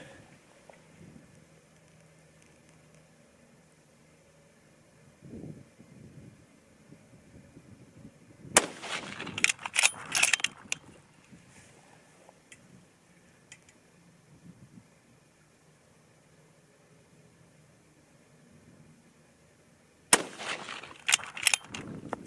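Two distant 6.5 Creedmoor rifle shots, fired with Hornady 129-grain and Sierra 120-grain loads at an outdoor range, land as clusters of sharp cracks with echoing tails, separated by long quiet stretches of faint background noise.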